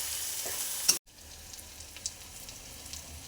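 Fried prawns and potatoes stir-fried in a spice masala for a prawn pulao sizzle softly in the pan; a steady hiss is broken by a brief gap, then a quieter crackle resumes.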